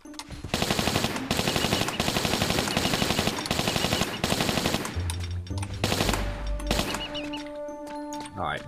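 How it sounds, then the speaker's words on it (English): Dual Uzis fire in Tomb Raider 3 at the Crash Site level: loud, rapid automatic bursts run for about five seconds, followed by scattered game impacts and a lower electronic hum. "I can make quick work of them with the Uzis"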